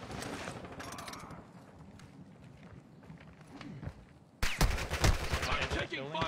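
Scattered gunfire in a military shooter video game, faint and distant at first under talk and movement sounds, then a loud close burst near the end while players speak over it.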